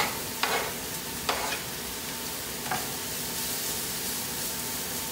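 Onion and then carrot frying in a pan, a steady sizzle with a few scraping stirs of a utensil near the start, close and fairly quiet, with no talk.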